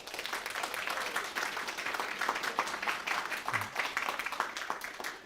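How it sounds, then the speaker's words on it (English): A congregation at a New Thought spiritual service applauds the women of New Thought and Spirituality, with sustained, lively clapping from a sizable crowd that holds steady for several seconds. "let's give all the women of New Thought and Spirituality a round of applause"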